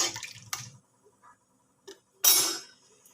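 Water is added to a simmering vegetarian papad curry in a pot: scattered soft clinks and drips, then a short, louder splashing pour near the end that fades quickly.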